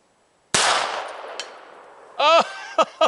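A rifle fitted with a red dot scope fires a single loud shot at a metal target 150 yards away, followed by a long decaying ring and, after a pause, a distant metallic ting and short bursts of sound.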